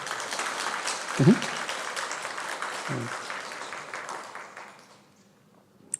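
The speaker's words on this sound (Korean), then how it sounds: "박수 한번 합시다" A church congregation in Korea applauds during a Sunday service. The clapping is steady and even, with a couple of brief low thumps partway through, and it fades to near silence before a single sharp sound at the end.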